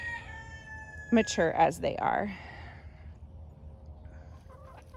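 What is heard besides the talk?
chickens clucking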